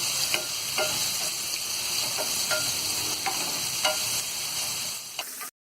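Onions sizzle steadily in hot oil as they fry toward golden brown, with a spoon or spatula stirring the pan every second or so.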